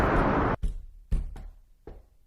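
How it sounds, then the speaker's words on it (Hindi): Knocking on a wooden door in an animated cartoon, a few separate hollow thuds spaced irregularly after a burst of noise, each one sharp and close. "और उसके घर का दरवाजा ठोकते हैं।"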